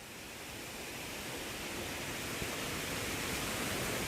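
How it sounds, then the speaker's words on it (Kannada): A waterfall near Harwada in Ankola roars as a dense, steady rush of water, loud and continuous with no voices over it. "ಸೌಂಡ್ ಹತ್ರನೇ ಇದೆ ಫಾಲ್ಸ್ ಒಂದು"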